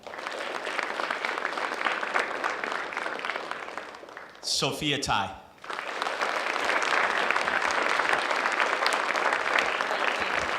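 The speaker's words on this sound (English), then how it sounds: "a big round of applause for our team from the Pyne Arts School" Applause from a school Knowledge Bowl audience rolls steadily on both sides of a short spoken announcement, then swells back full and continuous to the end.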